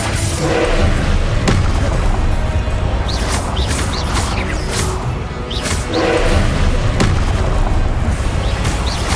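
Confringo fire-blast spells are cast repeatedly in Hogwarts Legacy combat, a dense run of booming bursts and crackling impacts layered over loud, continuous battle noise.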